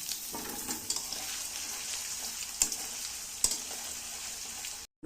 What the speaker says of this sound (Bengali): একটু হালকা করে ভেজে নিয়ে আদা দিয়ে দেব।